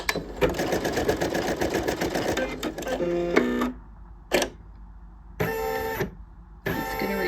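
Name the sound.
embroidery machine running stitches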